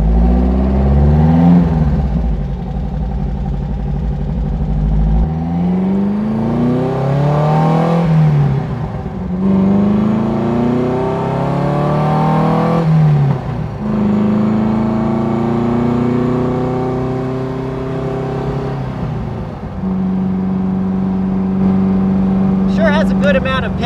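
Beck 550 Spyder replica car on a drive, its engine rising and falling in pitch through repeated accelerations and gear changes, loud and close inside the cabin, with someone talking over it.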